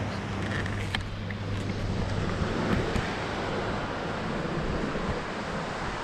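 Surf washes steadily onto a beach in Goa, a continuous roar of breaking waves mixed with gusts of wind buffeting the microphone, with no voices.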